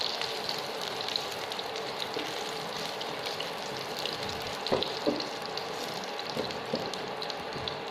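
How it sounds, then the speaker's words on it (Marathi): Cumin seeds with cardamom fry in a pan for a Kolhapuri white rassa, a steady close sizzle with a couple of soft knocks from stirring near the middle and no speech. "जिरे थोडे थोडं याला मी फ्राय करतो"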